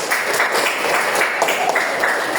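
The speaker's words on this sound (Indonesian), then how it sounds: "Tepuk tangan buat Pak Ija" Classmates in a school classroom clap together for a fellow student, a dense, steady patter of many hands held at an even level for a couple of seconds, fairly close, with a few voices faintly mixed in.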